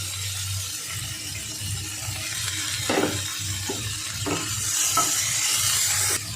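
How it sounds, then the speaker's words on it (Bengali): Chopped onion and ginger frying in a pan, giving a continuous soft sizzle with a low hum underneath and a few stirring scrapes midway. "আর পেঁয়াজ কুচিটা দিয়ে দেব, দিয়ে ভালো করে ভেজে নেব"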